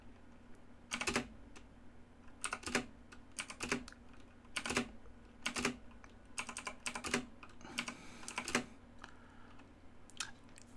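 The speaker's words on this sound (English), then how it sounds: "I can press the spacebar on my keyboard to just pass my turn" Computer keyboard keys tapped in short clustered bursts, roughly every second, with heavier spacebar presses among them, close and fairly quiet over a low steady hum, no voices.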